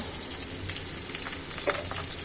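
Panch phoron five-spice seeds dropped into hot oil for a rohu fish curry with bottle gourd peel, crackling and sizzling loudly and close, with occasional stirring scrapes.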